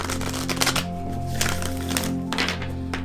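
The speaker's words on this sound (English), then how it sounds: "I'm going to give it just one more shuffle here." A deck of affirmation cards is shuffled by hand in quick riffling bursts and soft slaps, close and crisp, repeating several times over a faint steady hum.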